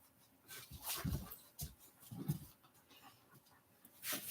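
Dogs panting and whimpering indoors close by, with irregular bursts of breathy panting and soft whines scattered over a few seconds, fairly quiet, without clear speech.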